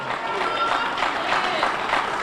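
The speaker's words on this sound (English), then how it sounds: "Y'all give them a round of applause." An audience applauds at a live event, a dense, steady wash of many hands clapping that holds evenly throughout with crowd noise mixed in.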